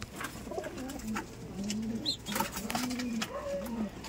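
Soft, repeated cooing of pigeons, several low rolling calls overlapping at close range, with faint rustling and a short chirp.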